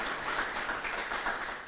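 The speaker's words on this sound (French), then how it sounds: "On peut l'applaudir très très fort pour sa brillante contribution." Audience applause for guest Ibrahima Théo Lam, an entrepreneur, author and teacher, at a town hall youth event in Plateau, a brief dense burst of clapping at steady strength.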